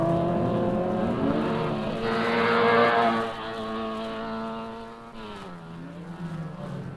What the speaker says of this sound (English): this is a Datsun 510, 1600 cc's, and putting out a goodly number of horsepower.